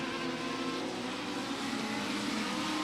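Legend race cars battle at Beckley Motor Speedway, a steady, loud roar of several engines running close together throughout, with no pauses or fades.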